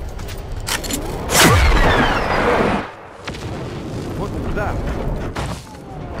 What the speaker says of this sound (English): EMP blast.